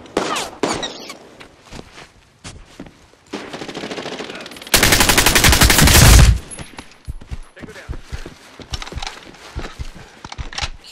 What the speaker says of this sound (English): it sounds awesome when you hear bullets pass by your head